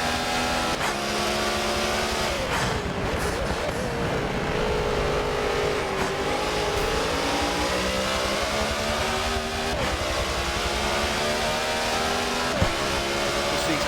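BMW M8 GTE race cars at the Nürburgring GP circuit, engines roaring loudly and continuously as they pass close by, with rising and falling revs, gear shifts and overlapping exhaust notes.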